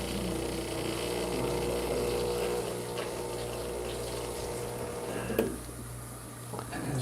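A Breville Barista Express espresso machine flushing water through its group head, giving a steady pump whir and running-water gush throughout, with a brief clunk near the end.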